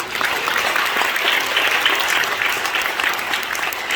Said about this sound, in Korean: 우리 감사의 박수를